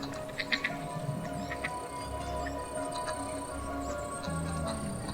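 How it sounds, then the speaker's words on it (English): A white duckling in the Dark Parables hidden-object game quacks several times in short, faint calls near the start, over a steady ambient game background with water and soft chimes. "Oh, I can hear a duckling."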